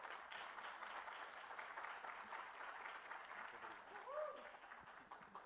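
Applause in an auditorium at a conference as a trade federation president is welcomed, faint and fairly distant clapping from the crowd with a brief voice and a small rise near the end.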